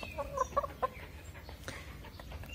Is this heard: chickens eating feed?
yes